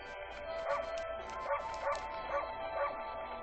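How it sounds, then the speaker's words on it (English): A wolf in the Okami video game gives a quick series of sharp, bright barks and yips at an uneven rhythm, close and fairly loud, set over soft background music. "I just like barking."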